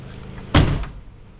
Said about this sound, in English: Look how nice that door closes.